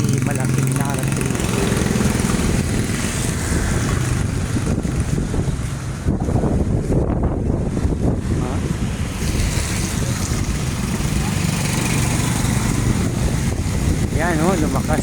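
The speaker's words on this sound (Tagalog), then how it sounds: "Lumakas naman si Typhoon Christine." Strong typhoon winds in Surigao City, Philippines, roar and gust steadily with rushing, buffeting noise against the microphone, briefly easing midway before picking up again, while a voice speaks faintly beneath.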